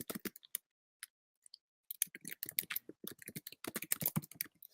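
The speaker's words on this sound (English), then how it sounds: "Let me mute myself so you don't have to hear the typing." Rapid clicking of keys on a computer keyboard, close by, in irregular bursts with a short pause near the start, then steady typing.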